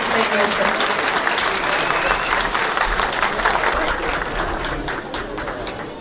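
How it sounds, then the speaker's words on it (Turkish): Wedding guests at a ceremony in Istanbul applauding, loud sustained clapping from a large crowd blended with crowd murmur and a low rumble, with voices mixed in. "Alkışlar eşliğinde."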